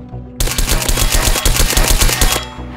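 A rapid, evenly paced burst of gunshots fired at a protected printer in Garry's Mod DarkRP, loud and close, running for about two seconds before stopping abruptly, with no talking.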